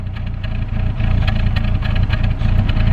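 Honda Integra DB1 with a B20 VTEC conversion idles close by, a steady low rumble with a faint uneven pulsing from a mild misfire, continuous and unbroken for a few seconds with no talk.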